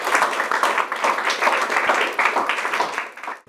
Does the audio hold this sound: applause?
yes